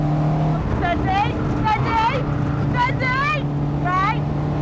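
A car being driven with a steady low engine hum running throughout, while a person talks over it in a high, excited voice.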